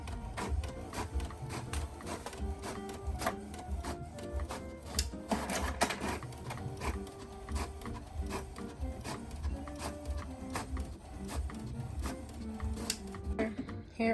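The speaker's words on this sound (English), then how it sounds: "we're gonna go ahead and get the labels printed up" A printer running off book labels, with rapid mechanical whirring and repeated clicks and shuttling in a steady rhythm, close and moderately loud, with faint talk now and then underneath.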